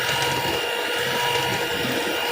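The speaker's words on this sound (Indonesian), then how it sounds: "Kita mixer duriannya sampai tercampur rata ya." An electric mixer whirs continuously as it blends durian into sticky rice cake batter, a steady, close, even motor drone.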